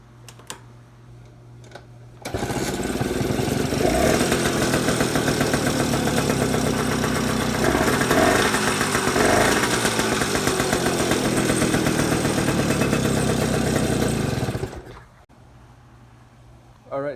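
A 2007 Genuine Stella scooter, modeled after the Vespa PX 150, idles with a loud, steady, close-up engine rattle that starts abruptly and runs about twelve seconds before cutting out.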